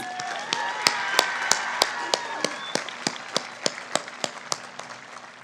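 A graduation audience at Hueneme High School's 2024 ceremony applauds a round for the valedictorians: a dense, steady wash of clapping lasting several seconds, punctuated by regular sharp louder claps, with a faint tonal layer underneath.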